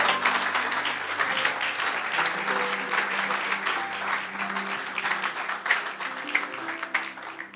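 A church congregation at a French-language seminar applauds steadily to welcome Dr. Michaud onto the stage, a dense, sustained wash of clapping that holds for several seconds over faint background music.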